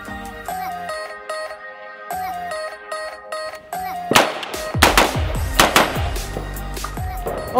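An AR-15 rifle fires steel-case Norinco surplus ammunition in a rapid string of loud, sharp shots. The shots are close and echo, and they come in quick succession over a constant ringing hum.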